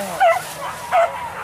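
Two sharp, high yelping barks from a hunting dog a short distance away during a wild boar hunt, spaced under a second apart.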